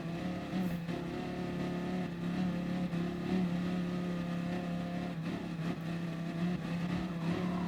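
Several Audi TT front-wheel-drive race cars in GT Sport on the Nordschleife hold a steady, continuous engine drone at fairly constant pitch, with no talk over it.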